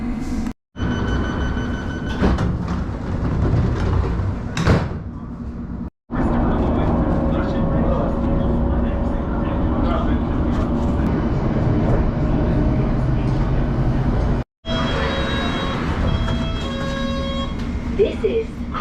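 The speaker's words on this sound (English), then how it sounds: "this isn't our train because this train is heading to Baker Street" A London Underground Metropolitan line train rumbles steadily at Moor Park station, its low drone running almost continuously with a few brief gaps and some higher whining tones, while people talk nearby.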